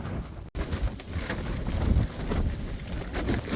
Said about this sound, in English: The good thing about the wind is it's keeping the fire going.